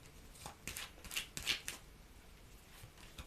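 Playing cards being shuffled and drawn during a tarot-style reading, a run of soft papery riffles and slaps, quiet and close, with no talking over them.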